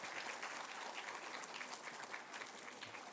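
An audience at a children's painting competition prize ceremony claps continuously, a full, even patter of many hands heard at moderate distance with no talk over it.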